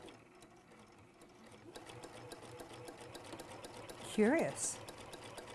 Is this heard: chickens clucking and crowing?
no